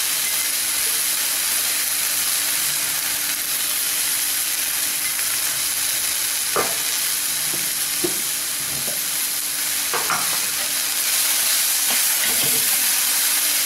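Cabbage and mixed vegetables sauté in a pan for vegetable kurma, giving a continuous close hiss and sizzle broken by a few soft scrapes and clicks of stirring.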